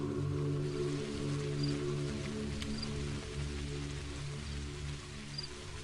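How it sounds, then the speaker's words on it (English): Steady rain falls in Pathologic HD, a continuous broadband hiss of droplets that holds at an even level throughout with faint tonal hums underneath and no speech. "It's raining, so their range of view is a little less than usual."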